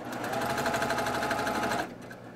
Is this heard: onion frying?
no